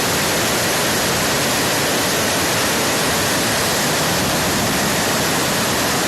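A rushing mountain stream of melting snow on the Ayder plateau roars in a dense, unbroken wash of water noise, loud and close, with no pauses or other sounds standing out.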